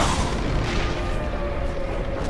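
A catapult fires in the Lord of the Rings: Return of the King video game, producing a loud, dense, booming rumble that holds steady throughout the short stretch with no talk over it.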